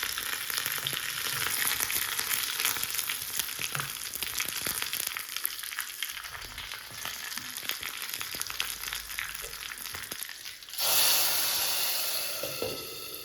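Tempering of dry chilli pieces and curry leaves frying in hot oil for Udupi-style brinjal bolhuli sambar: steady loud sizzle and crackle throughout, flaring into a sharper hiss near the end.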